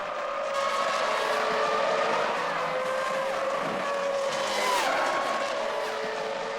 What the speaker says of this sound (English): he gets a fright when a left rear puncture leaves him spinning out of the race